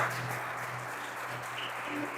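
Church congregation applauding during a Portuguese-language sermon, a soft, even patter of many hands held steady throughout, somewhat distant with a low hum underneath.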